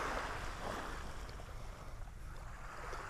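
Steady rush of surf and wind on a beach in North Naples, Florida, a continuous broad wash of waves rolling in with gusty air noise, no voices.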